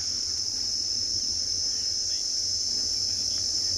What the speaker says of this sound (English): The cicadas are singing around us,